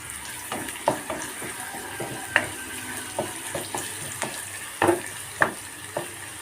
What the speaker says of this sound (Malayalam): ഇതിലേക്ക് ഞാൻ കുറച്ച് ഉലുവയാണ് ഇട്ട് കൊടുക്കുന്നത് ഇനി കറിവേപ്പില ഇട്ട് കൊടുക്കാം